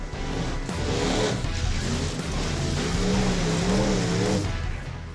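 The Crusher monster truck at a French monster car show roars as it launches into its first jump, a loud close engine surge with climbing revs that swell, waver and ease off.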